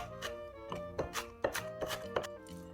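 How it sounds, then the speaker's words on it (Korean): Quick, steady knife chops against a cutting board, a rapid uneven rhythm of close, crisp taps as three Korean hot chili peppers are thinly sliced. "청양고추 3개도 송송 썰어줍니다."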